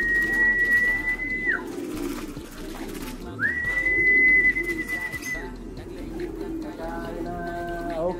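Pet pigeons coo softly while being fed, and a long steady whistle rises and falls over a background hum. Someone talks nearby.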